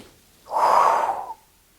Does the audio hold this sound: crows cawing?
no